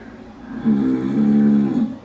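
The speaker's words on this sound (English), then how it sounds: "He's snoring." A single low, drawn-out snore rumbles up and fades, fairly faint and alone.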